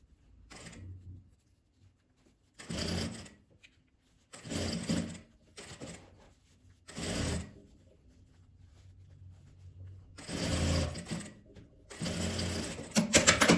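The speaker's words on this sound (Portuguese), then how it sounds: "Costurei um lado. E costuro o outro também." Sewing machine stitching the side of a fabric cosmetic bag, running in several steady bursts of a few seconds each with short pauses between, close and clear with no talking.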